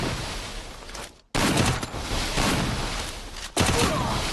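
UMP submachine gun fire in a shooter video game: dense, rapid bursts of loud gunfire with short breaks between them, close and harsh.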